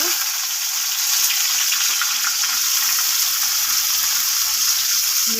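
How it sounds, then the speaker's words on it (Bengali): Chopped onion and bay leaves fry in hot oil in a kadai, giving a loud, dense, unbroken sizzle close up, with no voices. "পেঁয়াজটা একটু ভেজে নেবো ভালো করে।"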